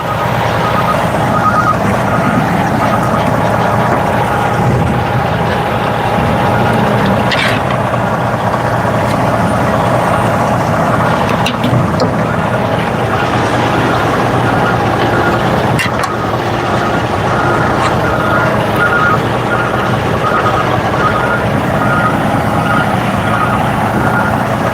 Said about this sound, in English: Sorry, you guys are gonna hear a garbage truck in the background.